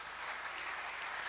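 Brief, sustained applause from a congregation during a church worship service, many hands clapping together in a thick, constant roar.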